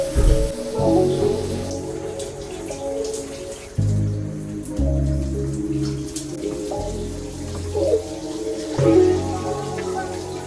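Shower water runs steadily in a home bathroom, a continuous close splashing hiss with shifting spatter and drips as the spray hits surfaces, heard alone for several seconds.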